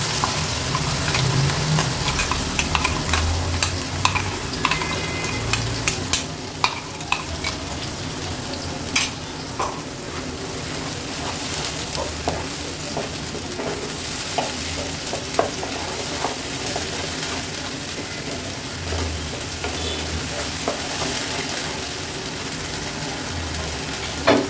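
A paste of ginger, garlic, tomato, coriander and cumin fries in oil with kalonji in a kadai, giving a dense steady sizzle under frequent scraping and clinking stirs.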